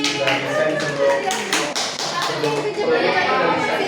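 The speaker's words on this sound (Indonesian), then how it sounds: "tepuk tangan buat Ane." Children clap together in a brief burst of applause in a classroom, mixed with their excited voices close by.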